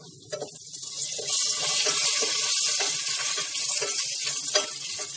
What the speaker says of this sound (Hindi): जीरा भी डालूंगी और इसको तड़कने दूंगी